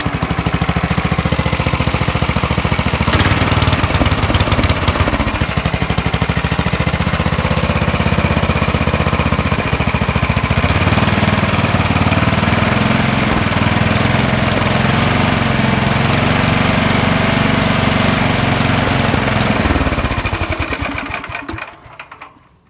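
Small recoil-start engine on a 1969 Suburban 12 runs loud and close with a rough, rattling buzz, revving higher partway through before winding down at the end, with no talk over it.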